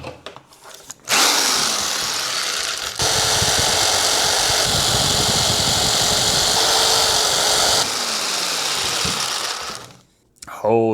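A chainsaw roars loudly up close while carving a wooden duck, revving into the wood for several seconds with a brief dip in pitch, then cutting out to near silence.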